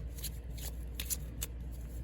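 A favorite deck of cards with paint-swatch colored faces is shuffled by hand, a quick run of soft papery riffles and flicks close up and fairly quiet, with no speech.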